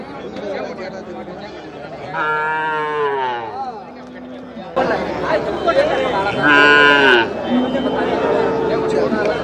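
Cattle moo loudly twice in long, drawn-out calls over a constant murmur of crowd chatter and background noise at the Manapparai cattle market in Tamil Nadu.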